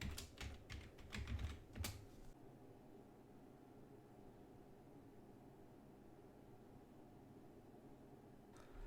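Someone types a password on a computer keyboard with a quick burst of close, distinct keystrokes lasting about two seconds, followed by faint background hiss and one last soft key tap.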